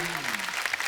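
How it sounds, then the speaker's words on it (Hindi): Dense, steady clapping from a TV comedy show studio audience fills the moment, loud and continuous, with a voice briefly trailing off at the start. "जोरदार तालियां"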